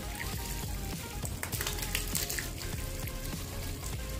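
Water sprays and hisses steadily from a leaking, unglued joint between a garden hose and a water tap during a hose connector test, a continuous close-up splashing rush with no talking.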